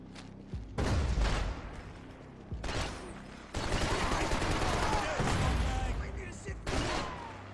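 Gunfire in Max Payne 3 erupts in several loud bursts of rapid shots separated by short pauses, with mechanical clanks and echoing impacts and some voices in between.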